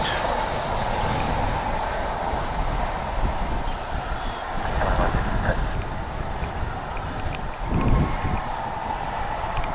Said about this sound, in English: An Airbus A321.